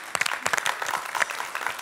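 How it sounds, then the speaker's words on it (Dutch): Brief burst of applause from the studio audience at a Dutch TV entertainment show, dense clapping that swells and stays steady for about two seconds, fairly close. "Geef hem een groot applaus"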